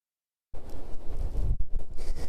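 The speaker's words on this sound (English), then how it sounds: "right now we're getting a huge gust of wind here on Aquidneck Island" After a brief silence, a strong blizzard wind gust on Aquidneck Island buffets the microphone with loud, rough, rumbling bursts that surge and dip without pause.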